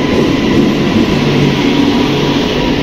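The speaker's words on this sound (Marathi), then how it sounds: "इकडे आमची 6:01ची ट्रेन आलेली आहे." A Mumbai local train pulls into a station in rain, producing a loud, steady, close rumble and roar of wheels and carriages with no talk audible.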